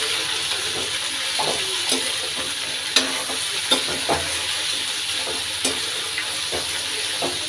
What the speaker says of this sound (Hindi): अब इसे मिक्स कर देंगे